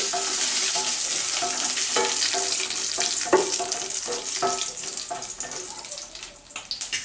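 Loud, bright crackling sizzle of cumin seeds and curry leaves frying in hot oil for sambar, continuous with occasional stirring scrapes, close and without talk.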